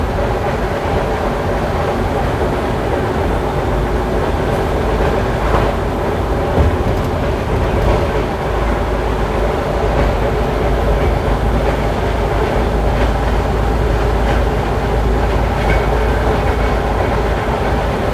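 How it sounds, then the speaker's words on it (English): A freight train rolls past continuously and loudly, heard from inside a truck, with steady rumbling and rhythmic clickety-clack of wheels on rails throughout. "For everybody that loves to hear the sound of the trains"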